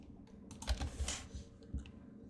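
A computer keyboard is typed on quickly, a short flurry of soft clicks and taps, fairly faint and close, with no voices over it.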